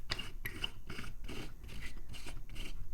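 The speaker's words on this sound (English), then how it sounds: "I'm tightening the screw a bit again because the glue has given way in some places." Screw being tightened on a phone back cover opener while removing the glued back panel of a Samsung Galaxy S25 FE, close repeated scraping and ratcheting turns in a steady rhythm.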